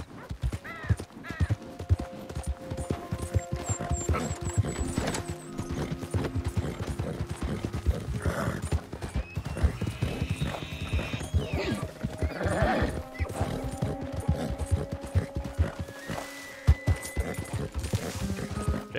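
Horse hooves clip-clopping in a steady rhythm with occasional neighs and whinnies in the video game Red Dead Redemption 2, continuous and fairly close, with faint bird caws and no talk.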